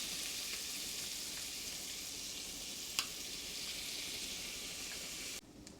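Fresh sofrito frying in a pan for arroz con gandules, a steady, even sizzling hiss close by with one brief crackle midway, then cutting to quieter sizzle at the end, no talking.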